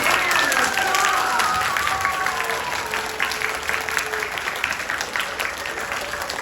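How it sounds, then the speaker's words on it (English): Loud, steady clapping from a large crowd of parents fills the room at a school grade pinning ceremony, with a few whistles and cheers rising over the applause. "let's give them a huge round of applause"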